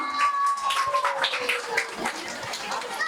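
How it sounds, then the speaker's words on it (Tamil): An audience at a Tamil cultural program claps along in a steady patter of applause that runs continuously and close at moderate loudness, with a voice speaking faintly beneath it. "ஒரு பலத்த கைத்தட்டல் கொடுக்கலாம்"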